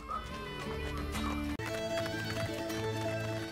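Hooves clip-clop at a running pace over layered game music and ambience in Assassin's Creed Brotherhood, with a short cut partway through.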